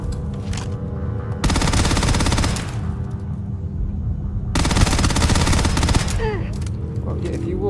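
Rapid automatic gunfire from the sci-fi game Starfield, two loud sustained bursts of dense rattling shots with quieter battle noise and scattered pops between them.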